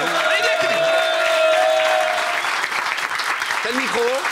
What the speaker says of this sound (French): On va applaudir Kevin qui nous rejoint.